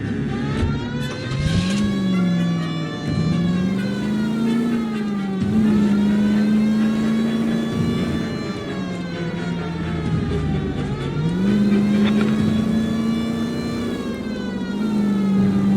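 A car engine drives and revs through a chase in L.A. Noire, its pitch rising and falling in repeated surges, with a siren-like wail running over it the whole time.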